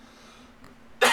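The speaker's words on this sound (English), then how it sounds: "I apologize for the coughing here." A single sharp cough bursts out at the end after near silence, close and loud.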